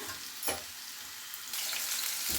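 Watermelon rind pieces fry in hot oil in a pan, a steady broadband sizzle with a sharp burst near the start and a louder, denser crackle in the second half, no voices.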